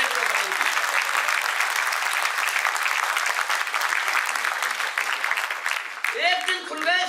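Steady applause from an audience at a Hindi poetry recital, dense clapping throughout with a few voices rising near the end.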